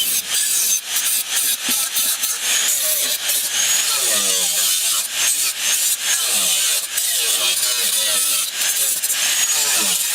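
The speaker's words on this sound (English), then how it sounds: "So now I'm going to cut off the extra bits, and then I'm going to grind them down" Power tool cutting and grinding through the sheet-metal shell of a Nissan 240SX (S13) being rebuilt, a loud, continuous harsh rasping whine with rapid scraping pulses, close up and without talk.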